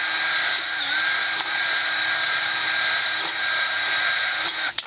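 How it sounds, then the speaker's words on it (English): A Harbor Freight cylinder hone spins inside the bare cylinder jug of a 12-inch air-cooled Ideal engine, a loud steady high-pitched whine that holds evenly for several seconds before cutting off abruptly at the end. "This is a Harbor Freight hone, so who knows how good it's gonna be"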